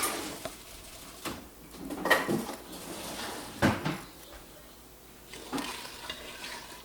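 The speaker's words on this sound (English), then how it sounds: "And just stir it until it dissolves into the water." A big spoon stirs brine in a container until the salt dissolves, giving scattered scraping knocks and soft swishes at an irregular pace over a quiet background.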